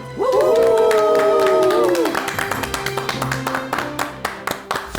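An audience at a Korean lecture hall claps to welcome Professor Kim Sung-chul of Dongguk University, dense applause rising after a sustained musical tone fades, the claps thinning toward the end.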